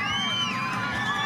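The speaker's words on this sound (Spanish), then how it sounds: "Los aplausos." A crowd cheering and whooping at a political rally in Córdoba for Javier Milei on 25 May, with a dense, continuous roar of many voices and shrill shouts.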